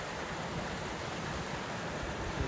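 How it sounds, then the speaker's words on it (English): Steady rushing water of a waterfall on the Otokomi Lake Trail in Glacier National Park roars continuously, a dense even hiss with no breaks, fairly close. "We've come to another waterfall."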